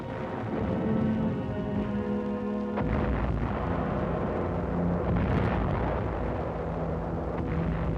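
A hit ammunition dump explodes during a WWII battle on Angaur, a loud, continuous rumbling roar with a sudden heavy boom partway through, alone without speech.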